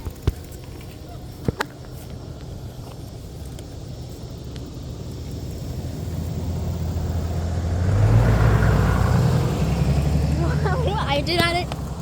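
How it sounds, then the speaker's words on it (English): A car comes up from behind cyclists on a neighborhood bike ride, its engine and tire noise swelling from a faint background rumble to a louder pass near the end, with wind buffeting throughout. "A car's behind us."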